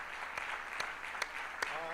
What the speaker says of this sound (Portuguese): você pode dar uma salva de palmas para o Senhor Jesus nessa manhã, pode ser mais forte